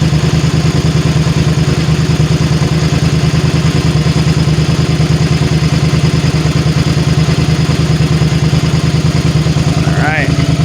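A motorcycle idles steadily and loudly up close with a low, rhythmic engine pulse and some clatter, running without change for most of the stretch before a brief sweeping sound near the end; the shutoff itself is not clearly evident.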